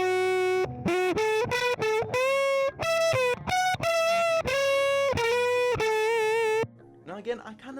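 Electric guitar played through a phaser-flanger effect into a boost amp and a 1x12 speaker cabinet simulation, giving a run of sustained, swirling chords and notes that ends with a short quieter tail.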